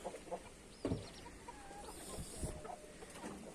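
Hens cluck softly nearby in scattered bursts, with a few louder clucks among faint background rustling.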